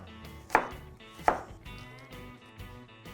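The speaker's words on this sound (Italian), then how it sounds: "Taglio anche la cipolla a rondelle sottili." A knife slices an onion into thin rings on a board, giving two sharp, distinct cuts about a second apart, followed by softer, quieter knife taps and handling noise.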